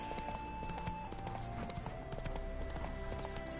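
The horse Roach in a PlayStation video game, hooves clip-clopping steadily at a walking pace beneath busy in-game music and ambience, with no talking.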